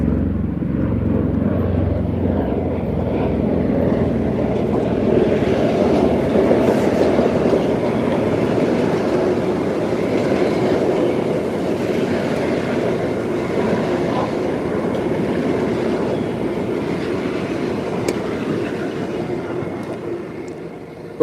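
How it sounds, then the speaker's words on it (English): A train rolls past on the railway with a loud, sustained rumble and rhythmic wheel clatter that holds steady for the whole passage. "Oh gosh, this train's coming again."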